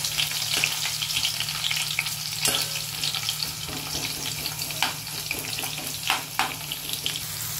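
Garlic dropped into hot oil with whole spices sizzles in a pan, a dense steady frying hiss with occasional pops and a few stirring scrapes, close and continuous without talk.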